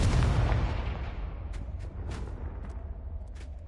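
A Confringo blasting curse explosion effect, a heavy booming blast with a deep rumble that decays slowly, followed by a few faint crackling pops.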